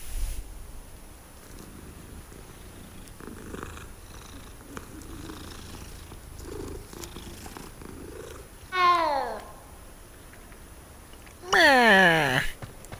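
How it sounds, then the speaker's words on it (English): Purring and meowing from a cat in a video game, with two short, loud rising-and-falling cries near the end over a quiet, steady background. "Kitty cat!"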